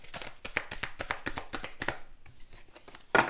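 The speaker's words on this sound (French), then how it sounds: "je vais mélanger un peu, mais elles ne sont pas faciles à mélanger ces cartes" Thick oracle cards being shuffled by hand, a close run of rapid, regular slaps and riffles for about two seconds, then a pause and one louder clatter of cards falling, with no talking.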